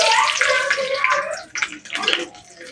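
Whole spices, bay leaves, green chili, cardamom and cinnamon, hitting hot oil for chicken tempering, a bright crackling sizzle that is loud at first, dips and then flares again in short bursts.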